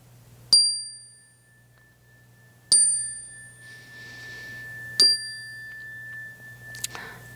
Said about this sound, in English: even as you hear the sound of the chime.